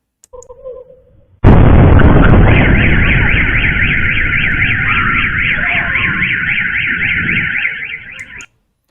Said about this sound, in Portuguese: só dá para ouvir o barulho do que aconteceu, mas deu para ver que foi uma grande explosão ali na região do porto ali de Azov